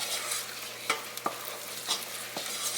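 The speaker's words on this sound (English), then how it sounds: "So you're just going to stir this around and cook it for 2 to 3 minutes" A flour-and-fat roux for chicken and dumplings gets stirred in a cooking pot, a gentle continuous sizzle broken by several distinct scraping strokes of a utensil, close by with no voices.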